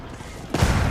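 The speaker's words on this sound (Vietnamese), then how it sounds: "nghe tiếng pháo thủ bắn sướng tai không anh em?" Handcannoneer gunfire from Age of Empires IV breaks in suddenly halfway through as a loud burst of overlapping game shots and booms, following a quieter stretch of background game noise.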